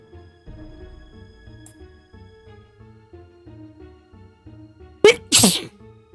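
A single loud, sharp sneeze close to the microphone near the end, over quiet background music and game sounds during a Nancy Drew: Message in a Haunted Mansion live stream.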